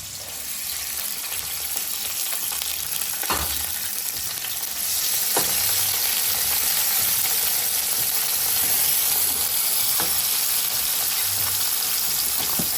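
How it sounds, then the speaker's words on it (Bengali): Garlic and onion fry in oil in a wok, giving a loud, steady sizzle with occasional stirring scrapes throughout, no voices. "প্রথমে আমরা কড়াইয়ের মধ্যে তেল দিলাম এরপরে দিব রসুন দাও"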